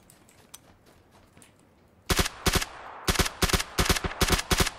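Gunfire in the shooter game PUBG Battlegrounds: after quiet faint shots, rapid loud bursts of automatic fire start up, several clustered volleys cracking close by with no talk over them.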